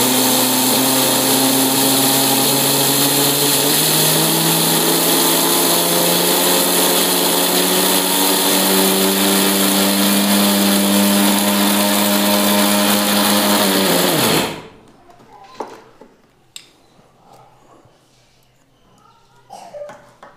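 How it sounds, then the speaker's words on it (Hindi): An electric grinder runs loud and steady, whining as it grinds dried black herbs into brown powder, its pitch climbing slowly before the motor cuts off abruptly near the end, followed by faint clinks and handling sounds. "तो सबसे पहले इसको मैं ग्राइंड कर लेता हूँ"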